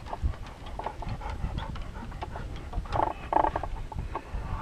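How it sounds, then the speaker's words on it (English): A dog pants rapidly and steadily close by, quiet breathy huffs with a few small snuffles and no talking. "What a dumb dog."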